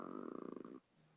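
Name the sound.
dog snoring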